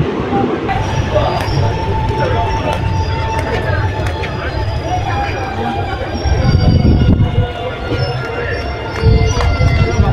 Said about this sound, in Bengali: তো আমাদের ট্রেন এখন ঢুকেছে সালার স্টেশনে।